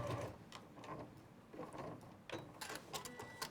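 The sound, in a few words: sewing machine stitching across the seam allowance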